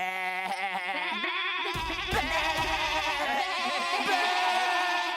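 Goats bleat loudly and repeatedly, their wavering cries overlapping close by with no speech.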